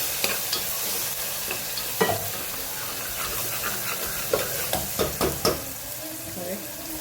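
Vegetables with coriander and salt stirred in a pan, a spoon clattering and scraping in a run of sharp knocks over a soft frying sizzle, close by and without talk.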